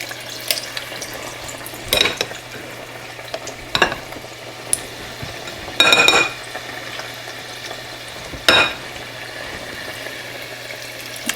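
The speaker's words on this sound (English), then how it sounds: "When you drop the batter like that, kind of go down as close to the oil as you can get so it won't splatter and burn" Batter dropped into hot grease fries with a steady close sizzle, broken by several louder crackling bursts as pieces hit the oil, with no talking.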